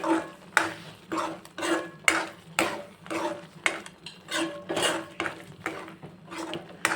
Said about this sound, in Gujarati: હવે આપણે બધું જ મિક્સ કરી દઈશું